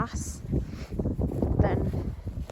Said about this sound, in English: I know it's really windy